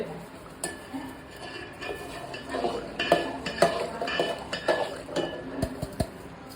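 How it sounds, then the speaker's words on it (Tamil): A thick Thiruvadhirai kali, mixed with cardamom powder and coarse-ground rice, is stirred in a cooking pot with a spoon. Irregular scraping and clinking come close and moderately loud against a low background hum. "நல்லா கிண்ட ஆரம்பிக்கணும்"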